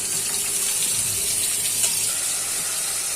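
Water poured into a pan of sautéed curry to make gravy: a steady, close gushing stream runs without a break for the full three seconds, with no voices.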